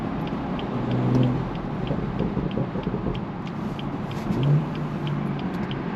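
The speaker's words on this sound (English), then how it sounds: "Let's hear some of those burbles now going through." BMW 440i with a six-speed manual, aftermarket downpipe and snow tires: a steady exhaust drone from inside the car, with low burbling tones swelling twice and faint crackles over the engine rumble.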